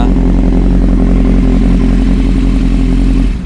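A 2013 Kawasaki Z800 motorcycle engine idling close and loud, a steady rumbling thrum with light mechanical clatter that cuts off abruptly near the end.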